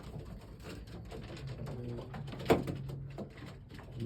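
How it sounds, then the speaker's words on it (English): Pigeons, a mated hen and cock near a nesting box, give soft, low cooing that murmurs steadily throughout, with one brief louder knock midway. "There you go, cooing."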